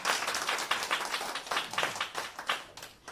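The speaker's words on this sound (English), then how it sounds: "Yeah, you can clap for that." A live audience claps loudly and continuously at an event where Alex Honnold appears after his free solo climb of Taipei 101, a brief, dense burst of applause in a crowded room.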